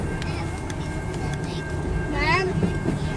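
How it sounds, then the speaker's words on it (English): CN 271 southbound freight train of car haulers passing in Port Huron, Michigan, a steady low rumble with rolling wheel noise and a brief high squeal near the end, while people talk nearby. "Alright, keep filming the train."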